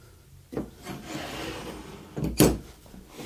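A loose tenon jig slides across to a second position on a woodworking setup, giving a soft wooden rubbing scrape followed by a sharper knock and slide near the end, close and fairly quiet, no voices.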